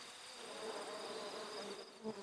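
Honeybees buzzing inside their hive, a soft continuous hum from many insects close by with no voices.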